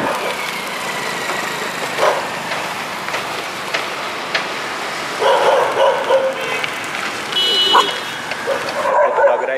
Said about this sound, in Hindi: आगे से और भी कुत्ते आ रहे